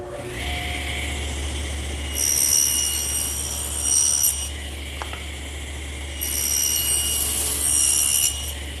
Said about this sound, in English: And I'll do that over here on the table saw.